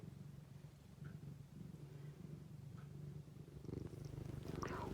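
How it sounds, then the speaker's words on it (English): A cat purrs softly and continuously close by, a low rhythmic rumble with a few faint background noises. "Can you hear him? He's purring."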